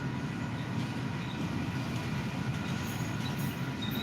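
A train passing close by, a steady loud rumble and rattle of wheels on rails filling the whole stretch, with faint high squeals near the end and no talk.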